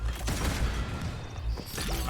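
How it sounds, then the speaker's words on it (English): Dull, rumbling explosions in Atomic Heart, steady and moderately loud with low booms and crashing debris throughout a short burst. "I hear explosions."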